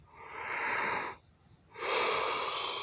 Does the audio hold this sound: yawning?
yes